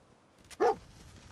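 Dog companion in the video game Fallout 4 lets out one short, sharp bark at moderate distance against quiet game ambience.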